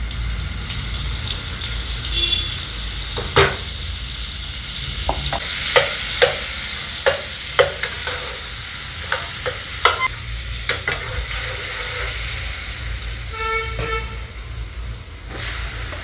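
Butter melting in a ladleful of hot oil in a pan sizzles steadily, with a scatter of sharp spatters and pops, close and moderately loud, alone without talk.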